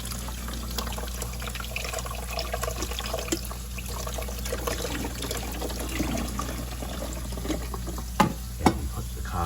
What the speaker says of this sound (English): Then you pour the water in the coffee maker.